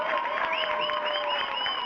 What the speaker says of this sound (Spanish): Un gran aplauso para todos ellos.